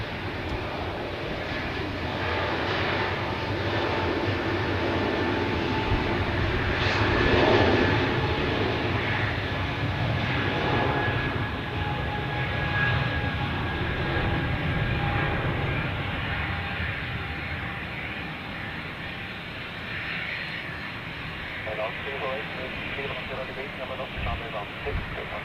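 An Airbus A330 airliner rolls on runway 28 at Zurich airport, its jet engines giving a broad, sustained roar that holds steady throughout and fades slightly near the end.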